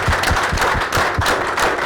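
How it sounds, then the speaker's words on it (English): An audience at an indoor leadership talk claps steadily, a dense, even burst of applause that runs the whole moment without a break. "And a much louder applause, pardon me saying that, for Shruti and the team"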